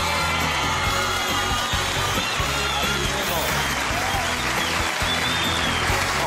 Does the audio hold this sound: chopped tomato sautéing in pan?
no